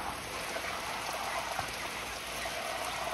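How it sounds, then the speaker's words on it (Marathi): Steady, even rainfall hisses close by, a dense continuous patter with no pauses. "बघा बाहेर आलाय पाऊस"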